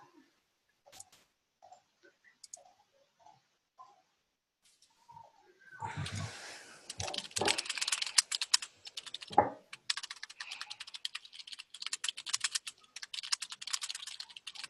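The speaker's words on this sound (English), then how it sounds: "You typing." Rapid clatter of typing on a computer keyboard fills the second half of the clip, loud and close with dense irregular keystrokes, after a quieter stretch of faint scattered sounds and a few soft thuds.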